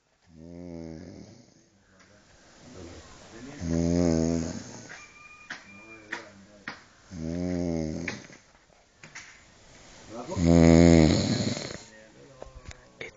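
Loud snoring from a person sleeping stretched out, several long rasping breaths in a slow regular rhythm with quieter gaps between.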